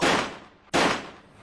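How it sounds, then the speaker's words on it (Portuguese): Two loud gunshot effects from a public service announcement about violence against women, sharp cracks about 0.7 seconds apart, each with a decaying tail, with no talk over them. "Tiro."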